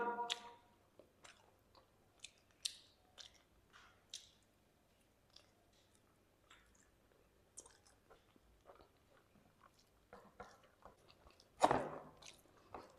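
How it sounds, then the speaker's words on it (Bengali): Chicken fat and gizzard being chewed close up, with quiet wet squishes and soft crunchy bites spread irregularly, then one louder burst near the end. "আমি যেটা মাত্র খেলাম ওটা কিন্তু চিকেনের ফ্যাট"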